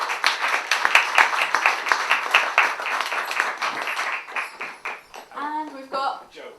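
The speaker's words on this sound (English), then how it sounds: "A round of applause for Megan," An audience at a film Q&A applauds with a dense patter of claps that gradually thins out, and a voice speaks over the tail end.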